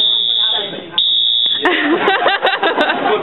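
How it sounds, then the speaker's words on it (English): A mall fire alarm buzzer blares as a steady, piercing electronic tone, loud and close, which cuts out partway while people talk and laugh over it. "like a fire alarm thing that goes on through the whole mall, so it's really scary"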